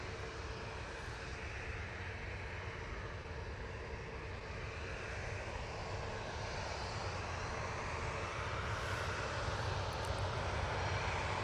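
A passenger airplane taking off at Manchester Airport, its engines producing a steady, building roar heard from a distance outdoors, with no voices over it.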